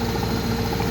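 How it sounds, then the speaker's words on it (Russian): An Electrolux top-loading washing machine with its side panels removed spins, its belt-driven motor turning the tub with a steady, close, loud hum and rumbling vibration, with no pauses. "Процесс отжима в стиральной машине вертикального типа Electrolux."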